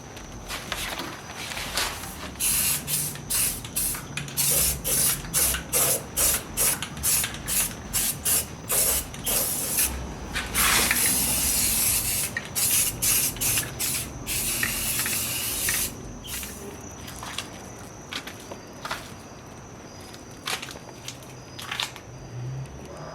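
Rust-Oleum truck bed spray paint sprayed from a can onto rusty rocker panels; a close series of short, sharp hissing bursts in a fast rhythm, a longer continuous spray in the middle, then more spaced bursts, with no talking.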